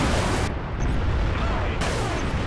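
Dense, booming cannon fire in Halo: Reach, a continuous heavy roar of blasts with sharp shifts in intensity.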